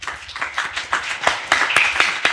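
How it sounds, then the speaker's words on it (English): Applause from a startup pitch event audience, a steady wash of many hands clapping with a few sharper claps standing out. "Next founder up. Round of applause."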